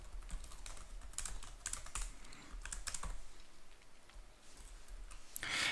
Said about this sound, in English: So let's type some code.